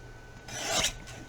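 A paper cutter trims a quarter inch off a sheet of paper in one short, close, rasping slide that swells and fades within about a second, with no voices.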